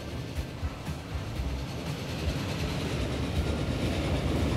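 Train running in the Transport Fever simulation game, a steady rolling rumble with faint rhythmic clickety-clack of wheels over rail joints, moderately loud and continuous without talk.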